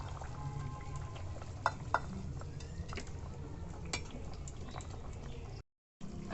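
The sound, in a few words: rohu fish curry simmering in a pan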